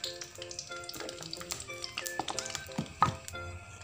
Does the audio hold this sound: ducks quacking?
no